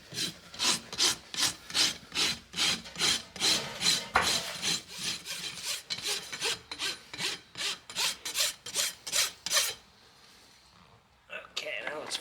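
A farrier rasps the hoof of a horse with laminitis flat, giving a long run of quick, regular rough strokes, close and fairly loud, that pause near the end before resuming briefly.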